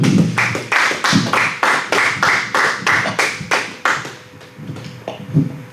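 Congregation at a French-language evening church service claps in a steady rhythmic beat, about a dozen loud, even claps, then the clapping thins and fades into a few scattered claps and murmurs.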